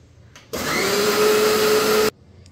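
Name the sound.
mixer grinder grinding coriander into a paste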